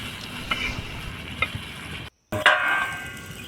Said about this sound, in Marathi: आणि छान परतून घेतली.